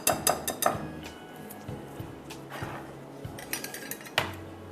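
Mashed bananas stirred in a bowl, giving quick clustered clinks and scrapes of a utensil against the bowl at the start and end, with softer scraping between.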